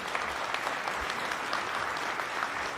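Steady applause fills a hall as an audience at a national information and communications technology event claps for the President, a dense, even wash of many hands at moderate distance with no speech over it.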